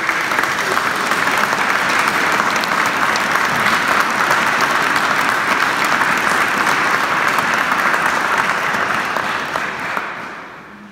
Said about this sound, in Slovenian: Zato namenimo nocojšnji aplavz tudi tema dvema osebama, ki ste zelo pomembni.